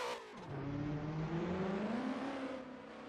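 Ford Mustang JTP racing car with a Link ECU in Assetto Corsa, the engine note rising steadily in second gear with a droning, whirring pitch that climbs then eases back, loud and alone.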